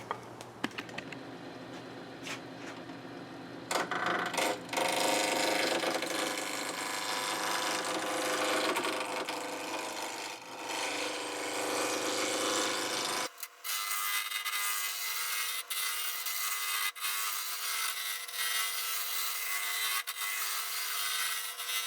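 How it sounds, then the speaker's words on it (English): Wood lathe turning the handle of a T fitting mallet, a continuous close whirring rub with tool scraping that shifts in tone partway through and carries on steadily for over twenty seconds, no voices. "Put this back on the lathe, we'll turn the handle"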